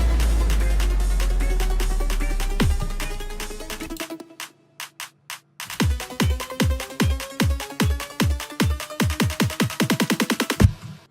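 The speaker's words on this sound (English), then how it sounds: "So now the claps in the background sound like this." Layered dubstep clap samples from a Dubstep Sound Arsenal pack build up in a buildup, starting dense over a low drone, then sparse isolated claps, then a fast repeating clap pattern that tightens toward the end, with no voices.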